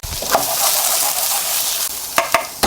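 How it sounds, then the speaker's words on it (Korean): Onion and chili pepper stir-fry in olive oil in a hot pan, giving a close, steady sizzle with a few sharp clatters of stirring near the end. "팬이 달가졌으면 양파 넣고 볶아주시고 고추 아까 하나씩 썰어줬던거 그것도 같이 넣고"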